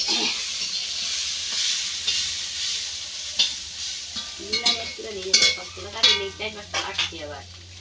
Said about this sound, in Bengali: আর এখানে হচ্ছে গাজর ভাজা